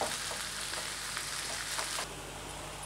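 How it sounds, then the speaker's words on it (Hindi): Onions frying slowly over low heat for a pumpkin curry, giving a steady soft sizzle throughout with faint stirring scrapes, close and even, no talking. "अब इनको हम धीरे धीरे धीमी आंच पर भूनते जाएंगे"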